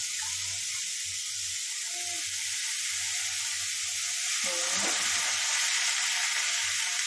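Water poured into a hot pan of vegetables for vegetable upma, with a steady broadband sizzle and hiss throughout and a brief louder splash partway through, no voices.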